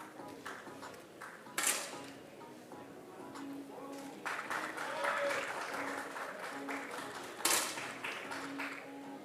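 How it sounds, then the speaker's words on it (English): Scattered applause from spectators at a 10m air rifle men's World Cup event in Bhopal, India, rising and falling at a distance under an announcer's voice, punctuated by two sharp, loud cracks and light tapping. "gets a huge applause."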